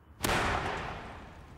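A detonator fires a sharp blast that mimics a missile strike on the surface of a bunker, a single sudden loud crack followed by a long rumbling decay that fades over more than a second.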